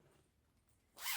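A short zip pull on a sewn gilet with a teddy bear fabric body and an inside zip facing, one quick close rasp after a near-silent pause.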